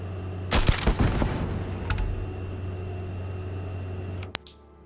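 Gunfire in Starfield aimed at a turret: a rapid burst of loud shots near the start, a couple of isolated cracks later, over a steady low hum.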